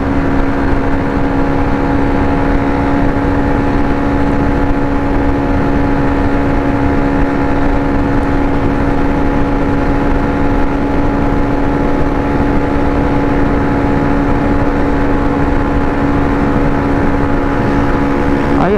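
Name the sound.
Honda Click scooter engine running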